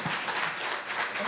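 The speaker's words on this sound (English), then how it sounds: "let's give Todd a round of applause" Brief, moderately soft round of applause from an audience at an entrepreneurship Q&A event, a continuous wash of many hands clapping with no voices on top.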